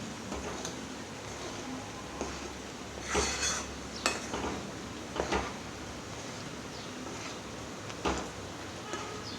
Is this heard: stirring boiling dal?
yes